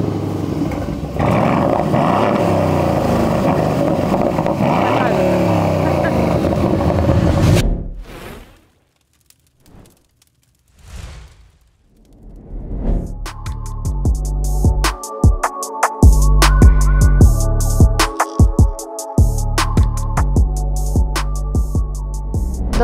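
An Aston Martin Vantage Roadster with a 4.0 twin-turbo engine drives past, a loud engine roar that drops away into near silence, then returns as revving with sharp bursts and a strong low rumble, and no voices.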